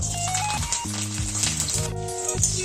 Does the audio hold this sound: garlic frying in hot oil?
yes